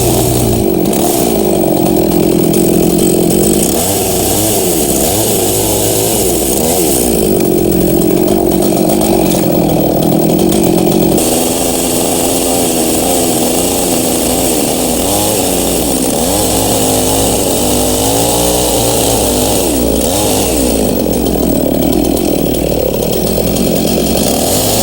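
A chainsaw makes 45-degree cuts in a log, its loud, close engine roaring steadily throughout and rising and falling slightly as the blade bites.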